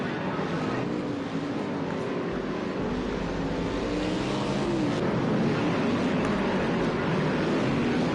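Race cars at the Hoosier GP drive around a racetrack, making a loud, continuous engine roar that holds steady throughout with no break. No voices can be heard over it.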